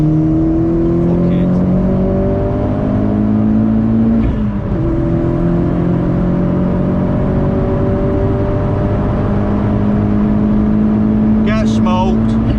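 A 300 hp Vauxhall Corsa E VXR accelerates hard while racing a Porsche. Its loud, near engine climbs through rising revs, with gear changes, and people talk in the cabin under it.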